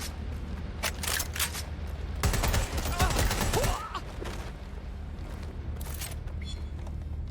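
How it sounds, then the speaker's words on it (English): Gunfire in the video game Watch Dogs Legion, a mix of sharp shots and a denser burst in the middle against a low rumbling background, with scattered in-game voices. "Suspect is shooting!"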